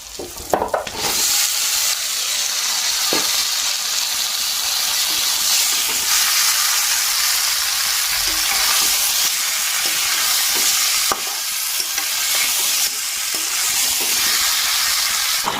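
Onion, chilli and meat frying in hot oil, a loud sustained hiss and sizzle with scattered spatula scrapes and sharp splatter crackles, no speech.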